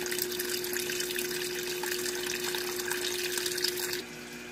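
Hot water runs steadily into a Haier XQBM22-C compact portable washer, a continuous close splashing flow with a steady hum underneath, dropping in level near the end.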